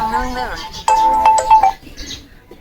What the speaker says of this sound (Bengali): এই থাই বউ ফোন করছে